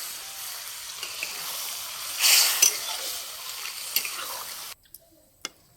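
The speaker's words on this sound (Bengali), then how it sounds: "মশলা জলটা দিয়ে দিচ্ছি পরিমাণ মতো জল দিয়ে দিচ্ছি" Spiced water poured into a pan of cooking prawns in a village kitchen, a short hissing splash and bubbling sizzle that swells then fades, followed by a few faint clinks near silence.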